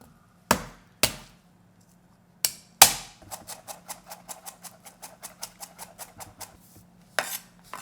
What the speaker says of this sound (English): Let's mince garlic and ginger.